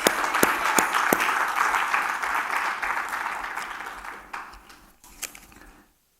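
A church congregation applauds loudly, the clapping swelling then gradually fading, with a few sharp isolated claps before it trails off to quiet.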